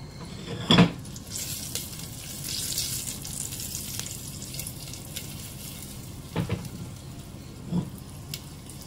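Salt and two bay leaves sizzle in hot ghee in a pan, a soft continuous frying hiss close up, broken by a sharp clatter at the start and a few later clinks of utensils.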